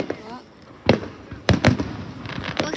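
Fireworks explode in a public display, with about four sharp booming bursts in under three seconds, two landing close together, while people nearby react softly between the bangs.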